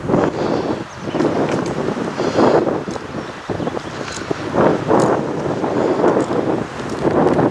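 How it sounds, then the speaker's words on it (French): Strong, cool wind gusts across the microphone on a mountain trail near Mont Thabor, a steady, loud roar that swells and dips throughout with no voices. "Il y a pas mal de vent et il est assez frais."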